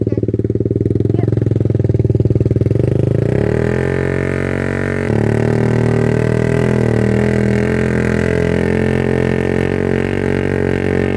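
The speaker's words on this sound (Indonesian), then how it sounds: "buat kita berdua yang nggak biasa bawa motor di daerah kayak gini" A motorcycle ridden through a coffee plantation in West Lampung runs loud and close, its engine shifting pitch and settling into a steady drone as it moves along.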